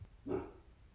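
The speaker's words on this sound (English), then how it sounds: "it's my dog barking." A single short dog bark, a pet named Rocky sounding off indoors at moderate distance, one quick burst with no other noise around it.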